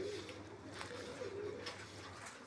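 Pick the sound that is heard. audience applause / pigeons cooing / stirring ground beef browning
pigeons cooing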